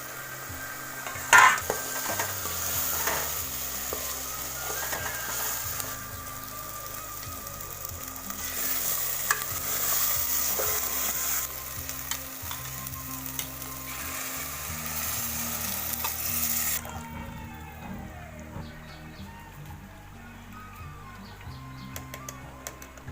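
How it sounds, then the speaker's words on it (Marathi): Ground spice paste sautéing in oil in a pan for Marathi amti gives a continuous close sizzle with scraping and stirring clatter throughout, softening near the end, with no talking. "याला चांगलं तेल सुटस तोपर्यंत परतून घेणार"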